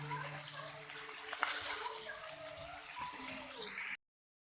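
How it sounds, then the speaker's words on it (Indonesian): Water pours and splashes into a pan of cooking clams seasoned with soy sauce and oyster sauce, a steady close gushing that runs for about four seconds before stopping. "Saya kasih air sedikit ya sahabat YouTube ya, biar meresap bumbunya ke kerang."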